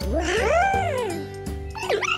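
A puppy whimpers and yips close up in a run of high, rising and falling whines with a sharper yelp near the end, loud and alone.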